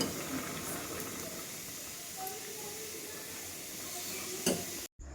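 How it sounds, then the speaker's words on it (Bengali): Potatoes frying slowly in a pan on low heat, a soft, steady hiss and faint crackle with a few brief clinks, heard close and quiet before cutting off abruptly near the end. "এখন আস্তে কম আঁচ করে দিব একদম, এখন আস্তে আস্তে এটা ভাজা হোক।"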